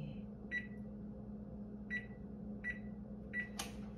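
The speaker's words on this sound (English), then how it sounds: "I'm gonna preheat the oven." An oven control panel chirps four times while being set to preheat, the short electronic beeps spaced about a second apart over a faint steady appliance hum in a quiet home kitchen.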